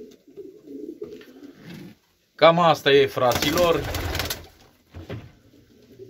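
A show pigeon coos in short soft bursts near the start, then someone speaks at length over it, with a brief coo returning toward the end.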